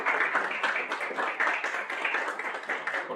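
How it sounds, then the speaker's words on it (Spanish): An audience claps for a speaker at a lecture, with many hands beating in a fairly brisk, uneven rhythm for about three seconds, close and clear, with no talk over it. "Un aplauso para el maestro Carlos"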